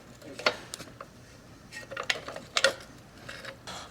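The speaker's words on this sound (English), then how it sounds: "I'm just snugging down our hard brake line here" A wrench snugging a hard brake line fitting on a '98 Evo Sportster during a rear master cylinder swap, a few quiet metallic clicks and ticks scattered over a faint background.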